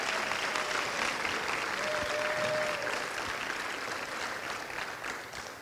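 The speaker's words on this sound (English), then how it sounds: "let's give applause to Isabel" A hall full of people clapping for an award recipient at a university chapel honors day, a dense, even round of applause that carries on steadily and tapers slightly toward the end.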